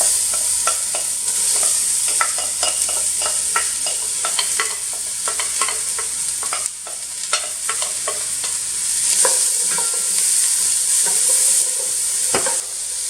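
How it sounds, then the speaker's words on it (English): Onions tossed into a pot of browned mushrooms for chicken cacciatore, sizzling steadily while a utensil stirs with repeated scraping taps, close and fairly loud with no talk. "I'm going to go ahead and add my onions."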